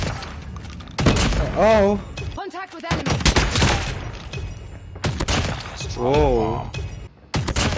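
Punchy shotgun blasts from an SG BY15 built as a sniper in a mobile shooter game, several heavy shots at irregular intervals under excited commentary and exclamations.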